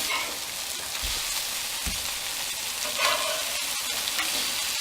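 Potatoes and zucchini fry on a griddle with a steady, close sizzle and crackle that runs the whole time, broken by a few soft thumps and scrapes.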